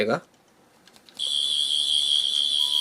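A chrome Twelfth Doctor sonic screwdriver replica toy gives a short click, then a steady high-pitched electronic whine that holds loud and unbroken.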